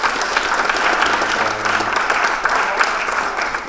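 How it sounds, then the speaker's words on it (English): Steady applause from an audience at an economics keynote lecture, dense clapping filling the whole stretch at an even level with no pauses. "let's give a round of applause"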